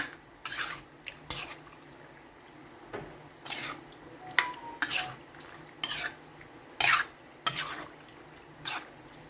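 Spoon scraping and clinking through creamy pasta with mushroom and cheese sauce in a pan, a string of irregular close stirring strokes with a soft sizzle beneath.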